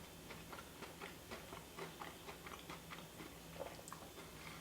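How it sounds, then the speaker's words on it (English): Someone bites into a crunchy melon pan bun: a quiet run of repeated crisp crunching and chewing noises, close and steady, with no talking. "let's crunch into the melon pan as well"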